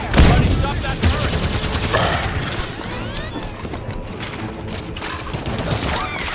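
Turret gunfire in the video game Halo 5: Guardians, a dense, continuous barrage of shots with crashing impacts and mechanical noise, loud and close, with game voices heard over it.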